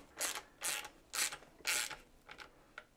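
A 10 mm wrench tightens a nylon lock nut on a beach cart, making a run of rhythmic ratcheting, scraping strokes. About four strong pulls are followed by lighter ones, close and fairly quiet, with no talking.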